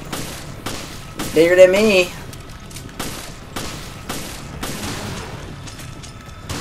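Handgun fire in Resident Evil Revelations Raid Mode co-op, several sharp shots spaced roughly a second apart at close range, with a player's voice and a brief distorted growl breaking in early on.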